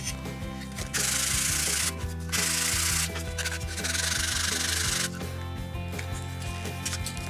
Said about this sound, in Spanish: Voy a aplicar un poco de lija para ajustarle y que entre bien.